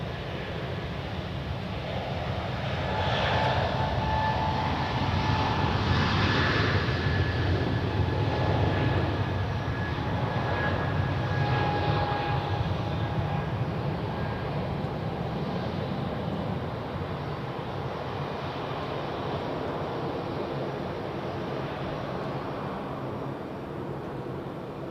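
At Zurich Airport an airliner on the runway sends out a sustained jet roar that swells near the middle and slowly eases off, heard from a distance with no voices.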